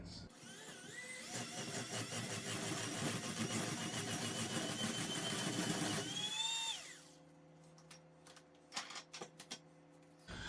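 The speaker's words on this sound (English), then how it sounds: "we're just going to get back in here with our hand mixer and continue to mix this up" A hand mixer beats sour cream cookie dough with a loud, close, buzzing whine for about six seconds, then winds down and stops, leaving quiet clinks and light handling sounds.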